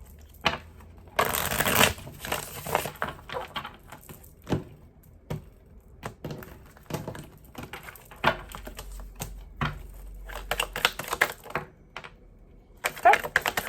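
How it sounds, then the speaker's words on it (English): Tarot deck shuffled by hand in a love reading, with bursts of papery card riffling and soft slaps spread across the clip, close and moderate in level, with a few quiet speech-like sounds in between. "One more shuffle."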